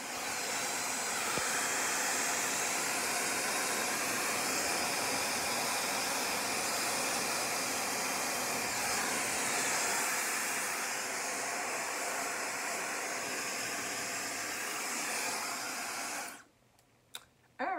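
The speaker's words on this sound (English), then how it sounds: "I have sat underneath my dryer" A hood hair dryer blows a steady, loud broadband whoosh for about sixteen seconds, then cuts off abruptly, leaving near silence with a brief click at the end.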